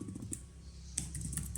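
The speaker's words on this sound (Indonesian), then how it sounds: "cukup lah untuk menunjang kebutuhan kita mengetik dengan tablet" Keys clatter on a Huawei MatePad 11 magnetic keyboard in a run of light, quick taps, close and fairly quiet, with a short pause mid-burst and no talking.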